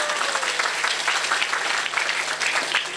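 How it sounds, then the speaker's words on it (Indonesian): A crowd gives a round of applause at an Indonesian religious lecture, a dense, steady wash of clapping filling the space at full volume throughout. "Tepuk tangan dulu, Pak."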